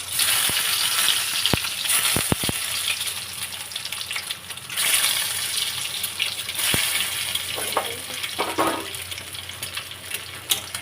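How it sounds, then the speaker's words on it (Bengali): Eggs frying in a pan for a steamed egg dish, a steady broad sizzle running throughout with a few sharp clinks and taps of utensils, close and fairly loud, no talking. "ডিমটা ভেজে নিয়ে আগে ভালো করে এটুকু ভালো করে ভাজতে হবে"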